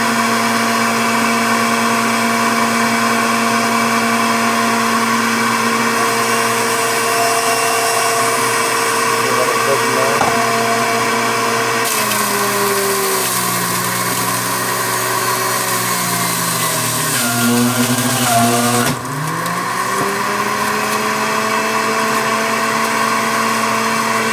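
Power XL juicer juicing oranges, a loud steady high-pitched motor whine that dips and strains in pitch as fruit is pressed through, running continuously up close for over twenty seconds.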